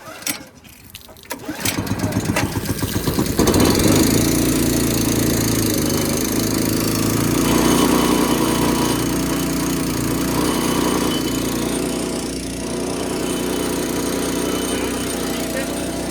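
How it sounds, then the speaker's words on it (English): A small Honda petrol engine on a hot-water pressure washer sputters to life after a brief pull, then runs steadily at a loud, even idle for the rest of the clip. "So this is just like a normal Honda engine startup."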